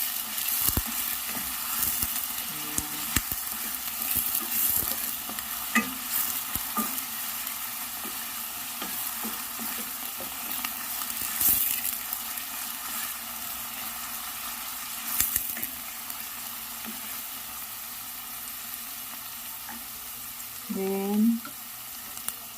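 Onion frying in olive oil hisses quietly and steadily as it is stirred, with scattered scrapes and clicks of the utensil and a brief clatter near the end.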